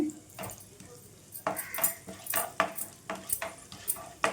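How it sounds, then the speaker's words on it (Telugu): Cumin and coriander seeds being dry-roasted in a pan, with a spoon stirring and scraping in quick, irregular clinks and rustles at close range, fairly quiet overall. "ఒక టేబుల్ స్పూన్ వరకు జీలకర్ర ఒక హాఫ్ టేబుల్ స్పూన్ వరకు ధనియాలను వేసుకోండి వేసుకొని మంచిగా వేయించుకోవాలండి"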